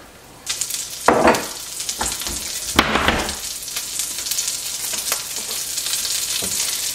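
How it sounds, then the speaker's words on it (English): Butter sizzles and crackles in a hot skillet before potatoes are added, with a few louder bursts early on before settling into a steady frying hiss. "All right. That's kind of sizzling"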